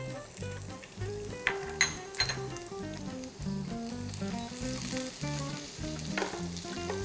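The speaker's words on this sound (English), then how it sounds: "I'm going to add some diced onions." Diced onions fry in extra virgin olive oil and butter, a steady, moderately loud sizzle with occasional crackles, mixed under rhythmic background music.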